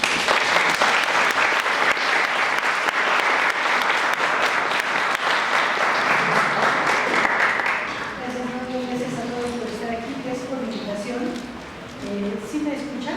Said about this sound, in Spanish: Le agradecemos un fuerte aplauso.